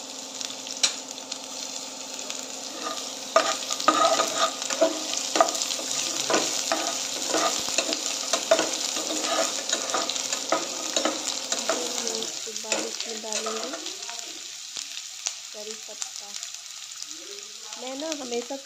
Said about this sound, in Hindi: प्याज को भी अच्छे से दाम होने तक भून लें।